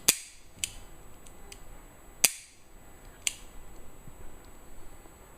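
The repaired and adjusted trigger mechanism of a Manurhin MR73 revolver gives a few sharp, close metallic clicks spaced irregularly. Fainter ticks fall between them against a quiet background.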